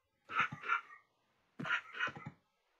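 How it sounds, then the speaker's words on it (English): Two short whimpering whines from a tamed wolf in Minecraft, a pair of brief bursts separated by a pause, fairly soft and alone. "Well, we've got another wolf."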